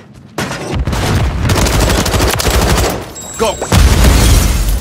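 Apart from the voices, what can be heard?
grenade explosion and gunfire in Call of Duty: Modern Warfare III video game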